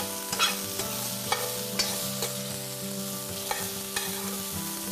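Cauliflower, lentils and sprouted rice sizzle steadily in a frying pan for fried rice while a utensil scrapes and stirs through it, with occasional sharper clinks against the metal.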